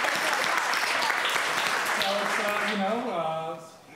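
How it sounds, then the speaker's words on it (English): Steady applause from a dinner-party audience fills most of the stretch, then fades as a voice starts speaking near the end. "because that's a clap"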